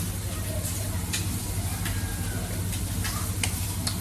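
Beans fry in a pan on a stove with a continuous, close sizzle. Small crackles and ticks pop through a steady low hum.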